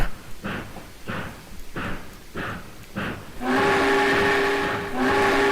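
In the train simulator game Trainz, a series of rhythmic chuffing bursts, then a loud, sustained multi-tone steam train whistle blows steadily for a couple of seconds.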